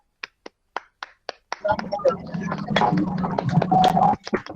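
Classmates in a middle school classroom clap for a student: a few isolated sharp claps first, then a fuller, louder round of clapping with voices talking over it before it stops abruptly.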